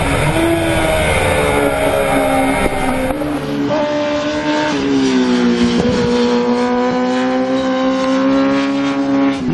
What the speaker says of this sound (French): Le 4 cylindres marche vraiment très fort.